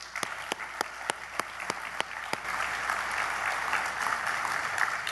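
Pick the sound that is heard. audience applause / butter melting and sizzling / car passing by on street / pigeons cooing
audience applause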